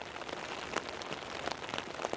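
Rain falls on an open golf course, a steady soft patter of drops with small scattered taps and no voices.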